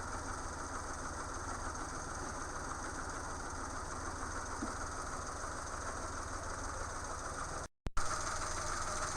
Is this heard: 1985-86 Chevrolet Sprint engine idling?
yes